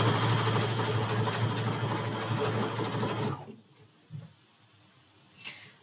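A sewing machine chain piecing quilt blocks runs in a fast, steady whir for about three seconds, then stops, leaving quiet handling clicks and soft bumps.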